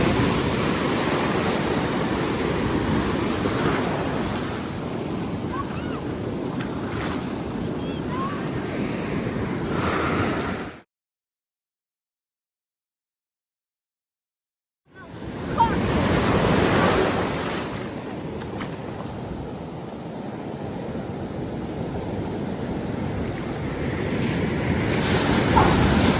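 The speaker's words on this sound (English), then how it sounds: "them waves getting bigger and bigger" Ocean surf breaks steadily on a beach in a broad, continuous roar with heavy wind buffeting the microphone, cut by a few seconds of total silence midway before the surf resumes and swells louder.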